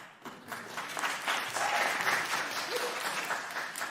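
A hearing room full of people breaks into sustained applause, rising quickly and holding steady, with a few scattered voices mixed in.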